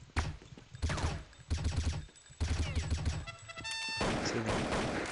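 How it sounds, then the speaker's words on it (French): Gunfire in Counter-Strike: Condition Zero, several loud bursts of automatic fire in quick succession with short gaps between them, then a longer sustained rattle at the end, no voices. "Putain, ça tire de partout là."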